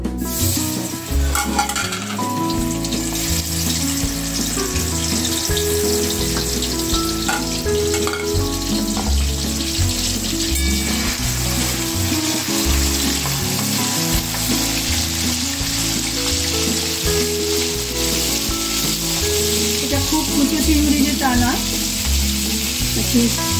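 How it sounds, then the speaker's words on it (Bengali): Prawns coated in turmeric and salt fry in hot oil, giving a loud, steady sizzle with occasional crackles that persists throughout, set against low tonal background music. "ফার্স্টে আমি সামান্য হলুদ সামান্য নুন মাখিয়ে নিলাম নিয়ে এটাকে অল্প ভেজে নেব"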